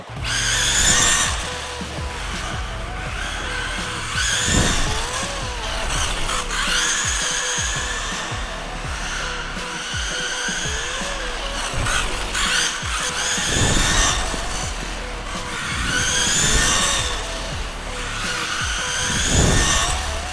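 A Losi 22S Sprint RC car drives laps, its electric motor whining loudly and steadily, with the pitch swelling and dropping in repeated surges as it speeds up and slows down, with no voices.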